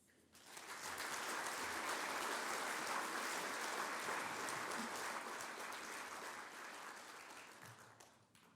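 An audience at a young alumni achievers awards event applauds an award recipient, a sustained wash of clapping that swells quickly, holds steady for several seconds, then fades out.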